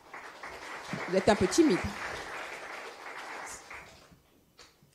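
An audience applauds at an award ceremony for the Charles Foix bursary. The clapping is steady and moderately loud for about four seconds, with a person speaking over it, before it fades out.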